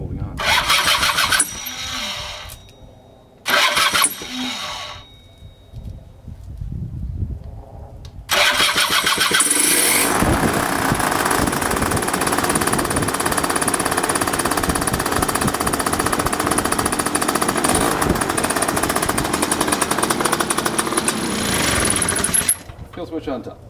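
A Paralite Skycruiser paramotor engine is cranked in a few short bursts, then catches and runs loudly at a steady buzzing idle up close before being shut off; someone speaks briefly between the start attempts.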